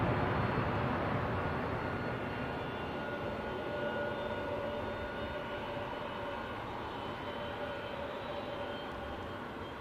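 A China Southern Airlines jet at London Heathrow airport gives off a steady, broad engine roar that fades slowly as it moves away, heard from a distance with no voices.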